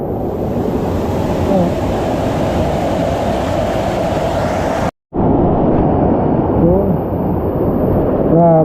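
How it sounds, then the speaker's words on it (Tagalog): Strong rushing flood water roars in a steady, loud, broadband wash near the microphone, cut briefly by a moment of silence, with a short spoken word over it. "Grabe lakas ang baha."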